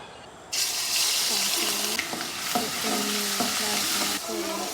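Spices, likely garlic, bay leaf, cinnamon and cardamom, hit hot oil in a cooking pot with a sudden steady sizzle, close and continuous, while a utensil scrapes and stirs in repeated strokes.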